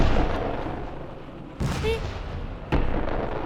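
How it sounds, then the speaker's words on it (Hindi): Comedy-show sound effect of explosions and shelling, two sharp bursts a second apart cutting through a noisy background, the first followed by a brief whistle. "मैंने बम गोलों की आवाज सुनी अभी"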